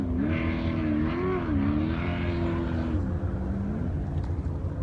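A Baja off-road race vehicle engine idles loudly and close after being refired during qualifying for the 2018 Parker 425, rising and falling in pitch as it is revved a few times before settling.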